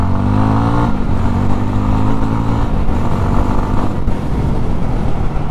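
Yezdi Roadster motorcycle engine running in first gear while being ridden, a loud, steady mid-pitched engine drone with a low rumble and slight clatter throughout.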